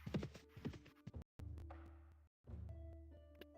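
Horse hooves clop in the Mount and Blade Warband video game, a quick rhythmic series of hoofbeats that is broken by short gaps and followed by game tones and hum, faint overall.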